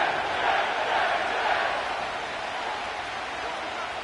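A large stadium crowd at MetLife Stadium in East Rutherford, New Jersey roars steadily before a football game, a broad, sustained wash of distant cheering with no clear breaks.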